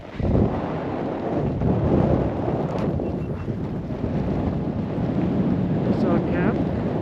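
Strong, cold wind of about 30 knots buffets the microphone at a camp in roughly minus 18 degree weather, a loud, rough, continuous roar that gusts and swells throughout.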